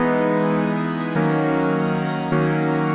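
Layered synth chord progression raised an octave in an FL Studio beat, with sustained, bright stacked chords changing twice at steady intervals, loud and alone with no voices.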